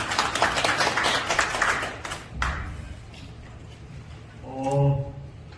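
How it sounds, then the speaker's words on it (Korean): A small gathering at a candidate meeting claps briefly for a guest speaker, a short burst of applause that fades within about two seconds, followed by quiet room noise and a soft voice. "다시 한번 박수로 맞이해 주시겠습니다"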